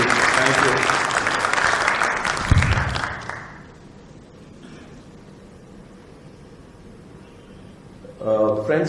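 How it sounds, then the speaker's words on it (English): Loud round of applause from an audience at a talk session, thanking two speakers, sustained for about three seconds then fading to a quiet room before chatter and sound return at the end. "a big round of applause for Mr. Manoj and Ravi for this talk"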